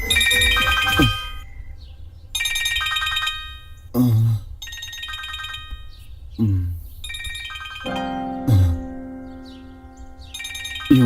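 A phone ringtone plays in repeated melodic bursts, each a short tonal phrase separated by brief gaps, fairly loud and close.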